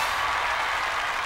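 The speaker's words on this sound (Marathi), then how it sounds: "तुम्ही टाळ्या वाजून राहिले रे" A studio audience at a TV comedy show claps in a continuous, even wash of applause that holds steady for the whole moment.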